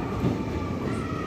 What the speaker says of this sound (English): bearing sounds of the wheels and compartments. The sounds reflects and it creates a different kinds of noises.